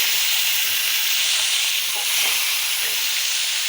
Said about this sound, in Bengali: কয়েক পিস মাছ ভাজি করি